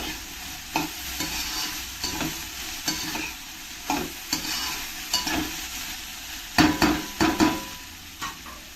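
Okra fries in a pan with a steady sizzle while a spoon stirs and scrapes through it in repeated strokes, loud and close, with no talking.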